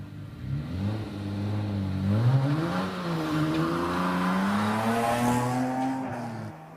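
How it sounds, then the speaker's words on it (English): Jaguar XJS straight-six engine pulling hard up the Shelsley Walsh hill climb course, a loud, sustained rising and falling engine note as the car accelerates through the gears, alone without talk. "fire up the 6-cylinder engine in the XJS"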